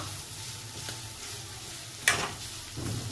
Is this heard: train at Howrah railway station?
no